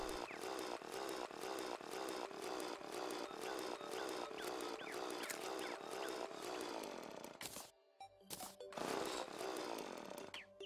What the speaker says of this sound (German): Ich glaube, ich säge ein bisschen in meiner Hand.